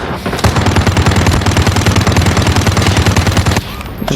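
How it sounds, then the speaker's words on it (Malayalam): Call of Duty Mobile video game gunfire: a loud, sustained burst of rapid automatic machine-gun fire, densely repeated shots for about three seconds, then stopping abruptly near the end. "വെടിവെക്കുന്നു."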